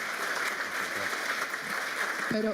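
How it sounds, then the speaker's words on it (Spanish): Forum audience applauding an answer during a panel discussion at a Colombian industry conference, a steady dense wash of clapping throughout with a brief tonal sound near the end. "Un aplauso, por favor, por esa respuesta."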